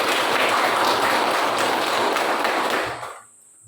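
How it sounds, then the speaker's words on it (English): Students in a classroom applaud: a dense, steady wash of clapping that holds for about three seconds and then stops abruptly. "Please give applause for our"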